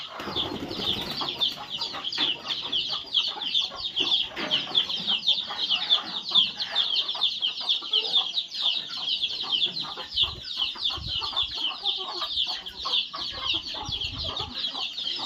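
Desi chickens settled in a shed shared with goats keep up a continuous, overlapping clucking chatter nearby. Occasional wing flaps and shuffling come through, with no talk.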